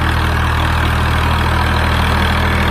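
A 1996 Swaraj 735 tractor with a 39 HP engine idles close by, a loud, steady diesel chug with an even low throb and no change in speed.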